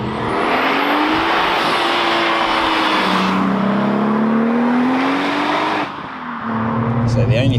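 A boosted 470bhp VW MK5 R32 engine revs hard and loud, its rising and falling tone sustained almost throughout, dipping briefly before climbing again.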